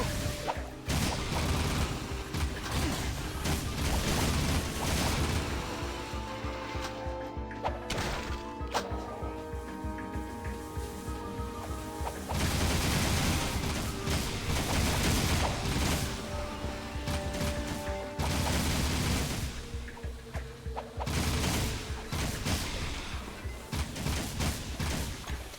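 Rapid gunfire from Jak's gun in Jak 3, dense repeated shots and impacts in loud sustained bursts over game music and effects, continuing almost without pause.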